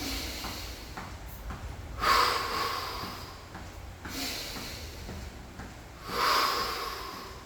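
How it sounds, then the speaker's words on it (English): A man's deep inhalation during a garage workout breathing exercise, heard as a few loud, rushing breaths through nose or mouth, with two strong long intakes standing out against softer breathing and low room noise. "Inhale all the way in."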